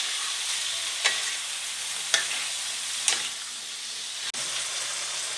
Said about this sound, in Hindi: ये हमारा चिकन पक रहा है